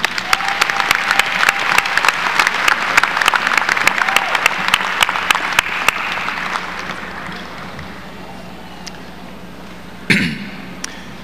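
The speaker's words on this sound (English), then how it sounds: "please join me in a round of applause for our speaker this evening, Mr. Chandron Thomas" Applause from a graduation ceremony audience for the evening's speaker, a dense crowd clapping steadily for about six seconds before thinning out and fading, then a brief clunk near the end.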